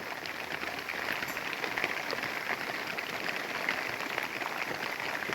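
Steady rain pattering on plastic sheeting spread over bushes in an outdoor shelter, a soft continuous hiss with faint scattered drops and no talking.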